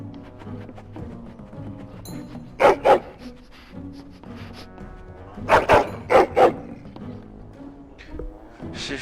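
A dog barks in the video game Dragon Age Origins: one quick pair of barks, then a sharper cluster of three or four loud barks, over a background game ambience, with no speech.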